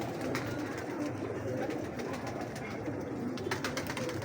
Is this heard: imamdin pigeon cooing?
yes